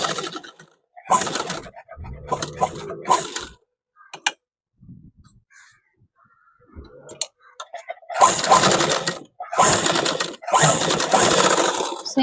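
Close sewing machine stitches a school shirt collar along the buckram edge in short stop-start bursts early on, then two longer steady runs after a near-silent pause with faint handling noises.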